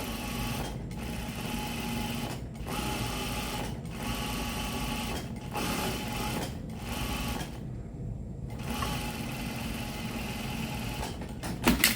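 Sewing machine top stitching along a shirt placket, fast steady needle chatter in several bursts of about a second or two, each separated by brief pauses, close and fairly quiet with no voices.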